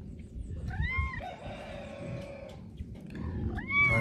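A cat on a farm in Bahia meows close by, twice: one drawn-out call near the start and another at the end, over low background rumble.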